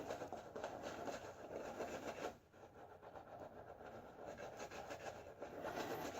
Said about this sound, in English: when you're scrubbing like this is what I'm doing now